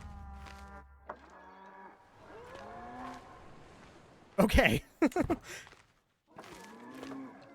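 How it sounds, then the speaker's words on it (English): Cows moo repeatedly in Crusader Kings III, long drawn-out lowing calls near and fairly loud, broken by a few loud clattering bursts, with a brief spoken word. "there are a lot of cows yelling here"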